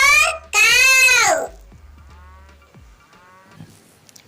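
A cow moos loudly twice, the second call long and drawn out, then quieter cartoonish effects follow in a playful alphabet-learning setting.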